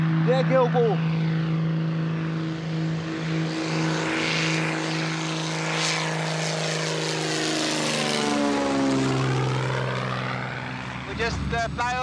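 Small propeller plane descending toward a landing field at Cape Maclear, Malawi, its steady engine drone and harmonic whine filling the cabin loud and continuous throughout, with pitch shifting slightly near the end.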